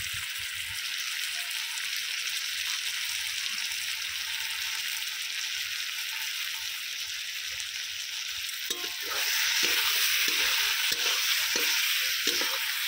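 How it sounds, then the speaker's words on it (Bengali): Mutton with chicken masala stirred and fried in a kadai gives a steady close sizzle throughout, which grows louder and brighter near the end as scraping stirs and clatters join in. "কিছুক্ষণ নেড়ে চেড়ে মাংসটাকে কিন্তু খুব ভালো করে কষিয়ে নেব"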